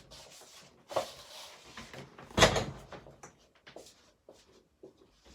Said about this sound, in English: Let me get the door for one of my buddies.